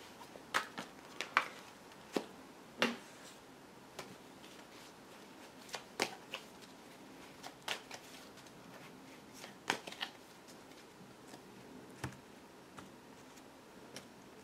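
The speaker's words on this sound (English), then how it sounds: "shuffling the cards" Tarot cards being shuffled by hand in a quiet room, with crisp, irregular riffles and snaps that recur every second or two, fairly faint and with no talking.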